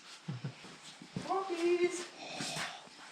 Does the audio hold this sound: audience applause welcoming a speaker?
no